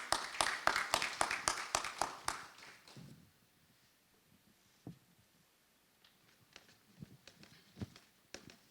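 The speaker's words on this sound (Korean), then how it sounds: "큰 박수 부탁드립니다." Applause from an audience at a Busan digital academy event, starting loud with dense clapping for about three seconds, then dying away into scattered faint claps and taps.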